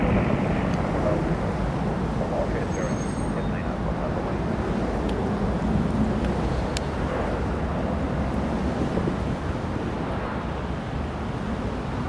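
An Airbus A321 begins its takeoff roll at a windy Newcastle Airport, heard as a broad, steady roar of engines mixed with heavy wind buffeting on the microphone, sustained and fairly loud throughout.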